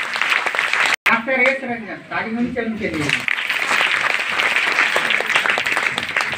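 Audience applause at a DXN meeting in a community hall in Bihta, breaking out mid-speech as a doctor is introduced. The clapping is steady and fills the room, with a speaker's voice heard before and over it.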